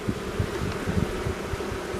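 Honeybees buzzing at the hive in autumn, a dense, continuous hum with a steady drone and small fluctuations throughout, close and moderately loud, with no voices.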